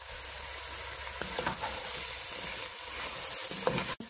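Beef sautéed with garlic, onion and tomato sizzles and fries steadily in a pan as soy sauce goes in, a constant close hiss with a few soft stirring knocks and no talking.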